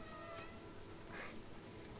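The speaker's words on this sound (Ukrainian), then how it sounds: "Так класно мяукать." A cat meows in the video game Stray, a brief mid-pitched call rising out of steady ambient game sound, heard once near the middle.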